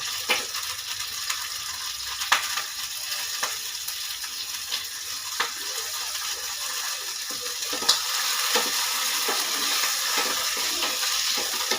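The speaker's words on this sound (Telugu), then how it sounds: "ఫ్రెండ్స్, పచ్చిమిరపకాయలు వేగిపోయా తీసేస్తున్నాను." Green chillies fry in a pan for a tomato chutney, making a soft, steady sizzle close by, broken by occasional clicks and scrapes of stirring.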